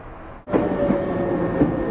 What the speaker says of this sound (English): I'm riding the trains, but it's not JR, meaning Japan Rail.